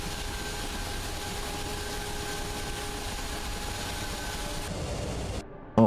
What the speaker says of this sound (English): it sounds like our engine's up to speed